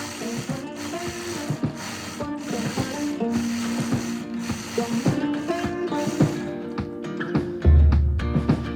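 A domestic sewing machine runs in bursts while free-motion quilting swirls into a quilt block, its needle clattering rapidly and steadily, pausing briefly between passes before a final clunk.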